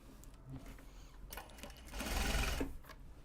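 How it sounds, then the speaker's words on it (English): A sewing machine stitches a fabric knot bag, a short run of stitching that builds to a louder, steady whir near the end, heard close with no talk. "So we just sew in through it."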